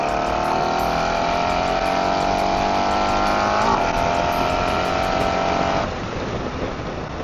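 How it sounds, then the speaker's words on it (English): A 2024 Harley-Davidson Touring motorcycle fitted with a new clutch cable accelerates through gears, its engine note rising steadily, dropping at a shift, then climbing again before easing off, loud and close with wind noise. "Let's roll a couple gears and see what she's got with this new clutch"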